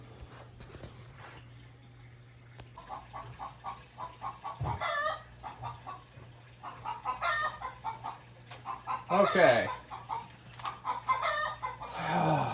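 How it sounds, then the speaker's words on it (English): Chicken clucking repeatedly through the clip, fairly close and loud, in bursts with a steady low hum underneath and a brief spoken word. "Sorry for the chicken."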